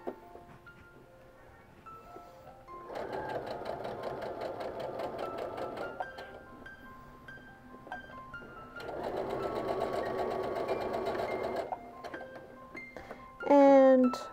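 A sewing machine stitches a layer of a landscape quilt in two steady bursts of rapid needle chatter, a few seconds each, separated by quieter handling, with a short sharp whirr near the end.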